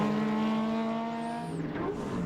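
A historic ex-Schnitzer BMW M3 race car at Winton roars past in one sustained, loud engine note that falls in pitch as it passes, with no talking.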